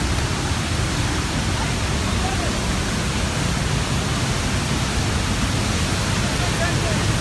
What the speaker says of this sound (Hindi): बहुत ही मतलब बहुत ज़्यादा आवाज़ आया था झरना से, मतलब एकदम कल कल कल कल कल कल